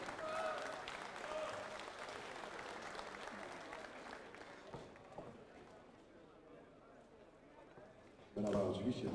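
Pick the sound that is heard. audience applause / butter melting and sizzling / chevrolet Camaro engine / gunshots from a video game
audience applause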